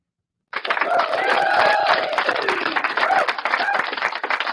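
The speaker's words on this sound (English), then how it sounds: "I want to give him an applause." A crowd applauding and cheering starts abruptly and continues strongly, with dense clapping under loud voices.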